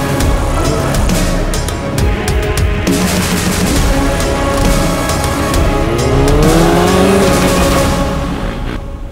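KTM Duke 390 and Duke 250 motorcycles race and drift in Colombia, their engines revving hard and steady throughout, with tire squeal and rising engine pitch near the end; no talk.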